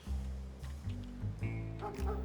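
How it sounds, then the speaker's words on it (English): In the farming game Farming Simulator 22, a dog gives several short barks and yips in an uneven run, fairly close and clear over a low background hum. "The dog sounds like he agrees"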